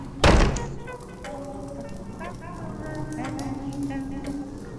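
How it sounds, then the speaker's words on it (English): A door slams shut with a single loud thud near the start, followed by a quieter stretch of indoor room sound with faint voices and light movement. "And shut the bleeding door!"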